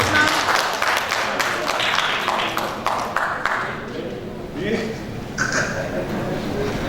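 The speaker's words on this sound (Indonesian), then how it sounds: "Udah tepuk tangan semua." Applause from an audience at a Betawi community council pre-meeting event, a steady wash of clapping that thins out, heard beneath continuing speech from a host on a microphone.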